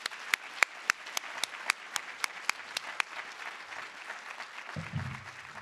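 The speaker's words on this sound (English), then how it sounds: "One more big, big round of applause." A live audience at a mayor's State of the City address breaks into applause, opening with sharp separate claps in a steady rhythm that soften into a broader wash of clapping before a low rumble comes in near the end.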